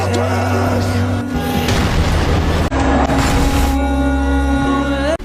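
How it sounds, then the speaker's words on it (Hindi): Artillery and catapult bombardment during the 1187 siege of Jerusalem: loud, sustained booming impacts and rumbling blasts overlapping steadily through the whole stretch, with deep low-end weight. "फिर सलाहुद्दीन ने शहर पर तोपखाने और मनजनेकों के जरिए हमला तेज कर दिया।"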